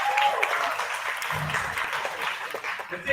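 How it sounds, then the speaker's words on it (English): An audience at a youth forum event applauds in a sustained wash of clapping, fairly steady and moderately loud over about three seconds. "Ladies and gentlemen, I said I'm presenting the round of applause."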